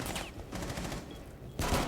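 Gunfire in Counter-Strike: Global Offensive during a competitive match, with shots traded back and forth through walls: dense bursts of rapid shots fill most of the clip, ease off briefly, then return loud and close at the end.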